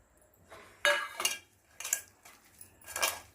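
Raw chicken tossed with salt, chilli and turmeric in a metal vessel, giving a few separate bursts of scraping and clinking as it is stirred, close and fairly quiet, with no talking.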